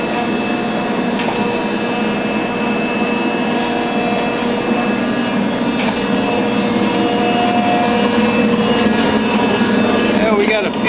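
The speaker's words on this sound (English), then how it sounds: "I'll try to give you a few shots of the machine working here" A machine runs on an angle plate with a steady mechanical whir and hum, while a crank handle turns as the table raises. A voice speaks briefly over it.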